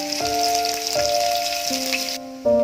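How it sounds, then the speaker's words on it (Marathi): Onion and garlic frying in hot oil in a pan for a chicken tawa fry, a steady hiss running through the clip beneath loud sustained background music, then cutting out briefly near the end. "तेल आता तापलं आहे. आपण लसूण टाकून घेऊ. त्यामध्ये कांदा टाकू."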